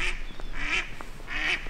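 A duck quacks at a lakeside beach in Őrség, Hungary: about three loud, nasal calls in quick succession, fairly close, over a steady outdoor background with no talking.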